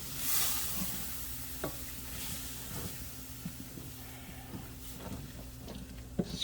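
Chicken corn chowder cooks in a pot under soft, fairly quiet stirring, with scattered spoon scrapes and clicks over a low simmering hiss.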